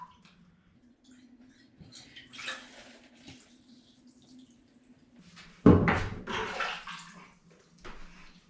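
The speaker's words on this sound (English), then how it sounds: "Just add some water." Water poured into a bucket of premixed drywall taping mud: a faint trickle, then a loud, close splashing gush that lasts a couple of seconds and trails off, over a low background hum.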